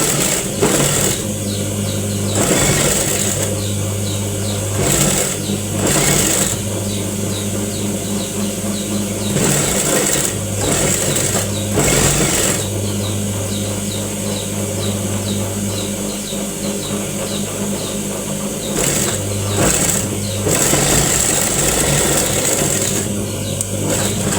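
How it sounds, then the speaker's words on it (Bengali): A sewing machine stitching a hijab runs with a steady, droning motor whir and rapid needle chatter, punctuated by brief pauses and restarts, loud and close with no talking. "দেখুন এভাবে আমি চাপ সেলাই দিয়ে দিচ্ছি"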